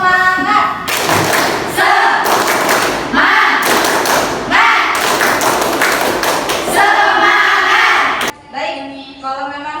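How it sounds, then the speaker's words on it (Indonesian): A classroom of students doing a rhythmic spirit clap in unison, loud repeated bursts of clapping and thumping in a steady patterned beat, with a short pause and a voice near the end. "Miss punya tepuk semangat"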